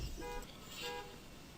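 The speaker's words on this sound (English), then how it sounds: "There was a car alarm going off" A car alarm sounds outside, heard as two short bursts of tonal, horn-like beeping, faint and distant over a quiet background.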